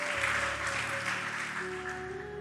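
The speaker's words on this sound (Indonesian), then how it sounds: "Tepuk tangan buat Tuhan Yesus." A church congregation claps together for Jesus, producing a brief, dense and steady burst of applause at a moderate level, with a faint sustained keyboard tone underneath and no talking.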